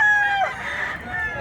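A rooster crows nearby, a loud strained call that falls away within half a second, followed by a fainter drawn-out tone and low background noise.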